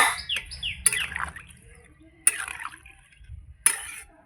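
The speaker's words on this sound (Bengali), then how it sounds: "পাখির ডাকগুলো এত সুন্দর লাগে।" Small birds chirp and tweet in the morning in front of a home's doorway, with several sharp, bright bursts of song between quiet gaps and faint clinking in the background.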